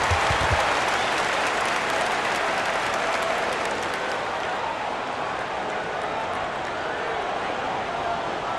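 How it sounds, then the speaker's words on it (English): Arena crowd applause in the basketball video game NBA 2K26, a broad, continuous wash of clapping and crowd noise lasting throughout, with a commentator's voice faintly over it. "All right, fans, let's give some applause for Bill from Los Angeles."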